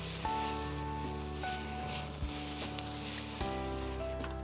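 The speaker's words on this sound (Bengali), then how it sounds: "এবার টমেটো কুচিটা একটু দিয়ে দাও।" Chopped tomato goes into a hot pan for a Bengali sultani dal and sizzles steadily. A constant electrical hum runs underneath, and a few brief clatters break in.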